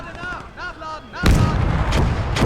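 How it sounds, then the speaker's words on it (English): Mortar fire in the video game Legion of the Damned comes in as a heavy, booming blast, followed by continued rumbling gunfire, after brief voice-like tones at the start. "Mortars are doing a job."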